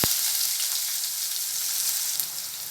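Chopped onion fries in hot oil with urad dal, a close, even crackling sizzle that carries on steadily after a brief thump at the start.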